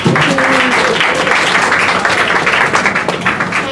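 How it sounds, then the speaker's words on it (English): Loud, dense applause from a summit audience welcoming a guest, close and sustained clapping with a faint voice briefly underneath at the start. "So a round of applause for Shuo."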